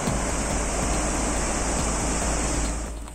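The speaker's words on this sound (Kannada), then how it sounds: "ವಿಶ್ವವಿಖ್ಯಾತ ದೂದ್ ಸಾಗರ್ ಜಲಪಾತ ಪ್ರಕೃತಿ ನಡುವೆ ದುಮ್ಮಿಕ್ಕಿ ಹರಿತಾ ಇದೆ" Dudhsagar waterfall cascades in full monsoon flow through dense forest, a dense, steady roaring wash of falling water heard close and loud, fading slightly at the end.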